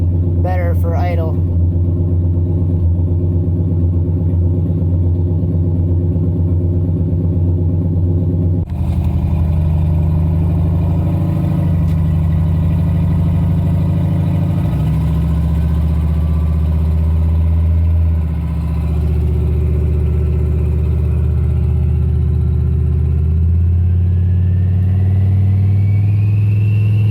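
Turbocharged LQ4 V8 swapped into a Ford Ranger rumbles at a steady, loud idle, with a short rev burst at the start and deep engine drone continuing throughout.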